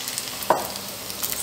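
Onion sizzles steadily in a hot frying pan, with a brief scrape of stirring partway through.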